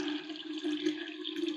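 Water pours steadily from a household tap at close range, a continuous rushing stream with no voices.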